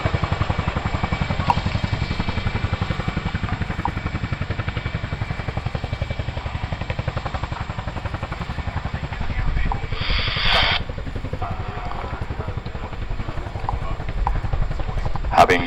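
RAF Chinook helicopter manoeuvring forward and down during a role demo, a steady loud rotor drone with rhythmic blade thumping throughout, a brief hissing burst midway.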